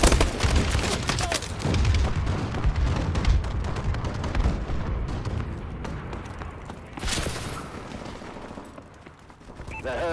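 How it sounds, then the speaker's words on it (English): Bombing run explosions in the video game Call of Duty Advanced Warfare: dense, loud rumbling blasts and rapid gunfire-like bursts pile up in the first half, then thin out to a lighter rattle and a final swell. "Friendly bombing run clearing the way."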